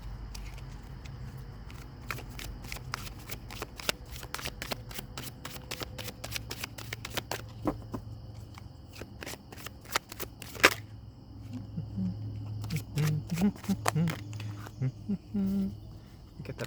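A deck of tarot cards is shuffled close up, with rapid riffles and flicks of card edges repeating in bursts alongside soft handling rustles, with no talk over them.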